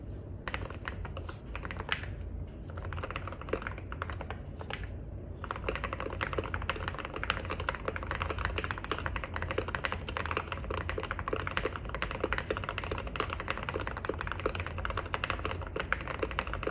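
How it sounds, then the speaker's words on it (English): Rapid, continuous typing on a mechanical keyboard, each keystroke a close, deep, muted clack in a dense, even rhythm. "with each key press flowing seamlessly into the next, complemented by a deep thud that echoes satisfyingly beneath your fingers"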